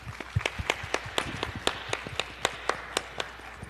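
Applause at a business and NGO event, a few people clapping in distinct, spaced, rhythmic claps, fairly near and moderately loud, with no crowd roar behind.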